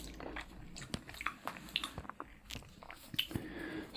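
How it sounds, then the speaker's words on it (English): Home fries are bitten and chewed close up at a breakfast meal, a quiet string of soft crunches and wet squishy chews with a few sharper crisp bites, no talking. "Let's try these home fries"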